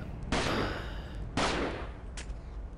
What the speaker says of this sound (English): I'm shooting you through the box